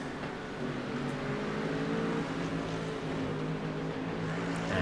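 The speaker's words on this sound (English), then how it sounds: "look at that gaggle of cars going around Thruxton here right now." A pack of GT3 race cars circles Thruxton in iRacing, engines droning and whining together in a steady, fairly distant roar, with no voices.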